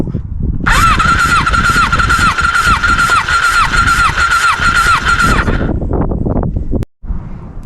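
A motorcycle fitted with new iridium spark plugs fires up after repair and runs loud and close for about five seconds with a sharp, chirping squeal, then cuts out.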